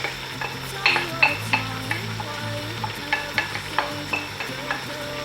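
Stock and fried onions go into a pot for Ghanaian waakye and get stirred, with a soft sizzle under a string of sharp spoon scrapes and clinks against the metal pot, close and fairly loud.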